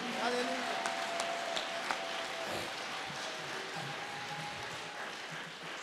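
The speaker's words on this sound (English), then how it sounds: "Give Jesus an applause." A church congregation applauds in a soft, diffuse wash of clapping that carries on steadily, faint and somewhat distant, with a murmur of voices beneath it.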